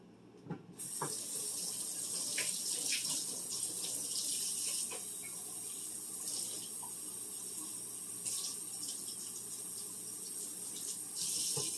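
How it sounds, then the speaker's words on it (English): Tap water runs steadily into a can, a continuous close splashing stream with a few small clinks against the metal, no voices over it. "Now you're going to take your can and fill it with water."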